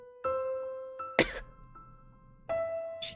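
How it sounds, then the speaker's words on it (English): A single short cough cuts through a quiet visual-novel scene in Tsukihime, a character coughing up blood, set against sustained soft musical tones. "She coughs up blood and smiles painfully."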